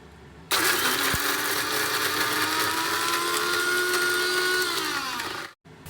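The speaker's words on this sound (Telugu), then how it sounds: "వేసేసి వీటిని ఒక్కసారి మిక్సీ ఆన్ చేసుకుందాము." A kitchen mixer grinder crushes peanuts, salt and tamarind pulp for a cucumber chutney. It starts abruptly, runs at a loud, steady whir with a slowly falling pitch, then cuts off near the end.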